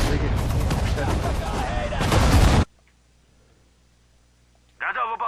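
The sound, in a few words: long-range artillery fire in Sudden Strike 4 video game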